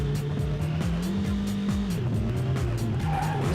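TVR sports car in the racing video game Vanishing Point, tires squealing in repeated skids over a loud revving engine, with gear shifts and rising pitch sweeps, no voices.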